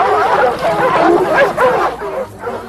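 Several dogs yip and bark excitedly at a cornered jaguar in quick overlapping bursts, fairly close, with some whining mixed in.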